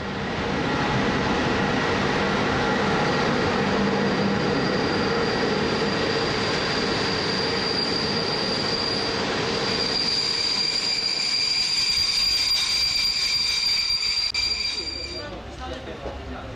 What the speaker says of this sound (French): À 7h42, en provenance de Timișoara, notre interrégional rentre en gare.